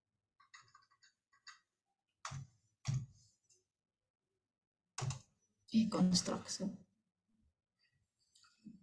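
Short bursts of computer keyboard typing, light quick clicks, alternate with a nearby voice speaking in a quiet indoor room.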